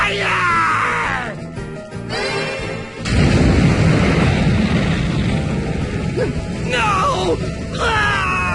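Fire spell explosions in the video game Bravely Default, a deep booming rumble bursting in after shouted voices and rolling on loudly for several seconds, with strained vocal cries at the start and end.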